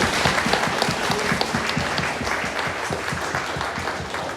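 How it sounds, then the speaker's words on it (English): A crowd applauds finalists at a convention awards stage with dense, sustained clapping that holds steady throughout the short stretch, fairly close and lively. "A round of applause for our finalists."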